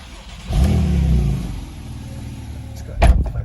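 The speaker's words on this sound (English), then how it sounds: "as I turn the engine on" A Porsche 991 Turbo S Coupe engine turns over and catches, settling into a low idle, then a sharp blip of revs near the end.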